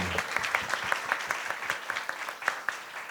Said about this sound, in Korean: 여러분들 감사하는 마음으로 큰 박수 한번 좀 부탁드리겠습니다